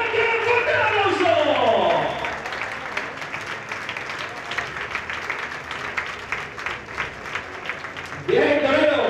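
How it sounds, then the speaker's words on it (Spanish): Crowd applause and cheering ring out for a recortador at a national bullfighting-ring contest in El Burgo de Osma, a sustained clapping roar under an excited announcer's voice that comes in at the start and end. "¡Fuerte el aplauso!"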